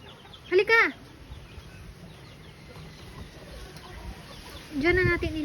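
Chickens cluck in two short bursts, near and fairly loud, separated by a quiet stretch of low background noise on a backyard with people around.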